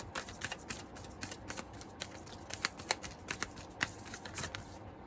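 Tarot cards being shuffled by hand, a steady run of soft riffling flutters and light slaps, close and quiet, with no voice over them.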